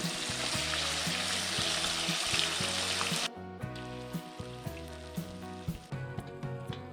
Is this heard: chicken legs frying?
yes